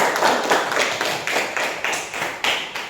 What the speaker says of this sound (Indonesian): Semuanya tepuk tangan untuk semuanya